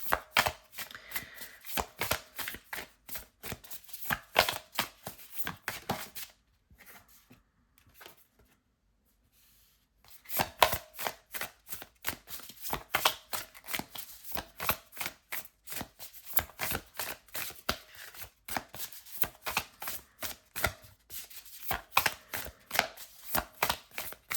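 Slippery tarot cards are shuffled close up in a steady run of rapid papery slaps and clicks. The shuffling pauses briefly for a few seconds, then resumes at the same brisk, even rhythm.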